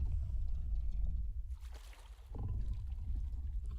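A dinosaur drinks from water in the game The Isle, producing low sloshing, lapping water sounds in two bursts separated by a brief lull, with no talk over them.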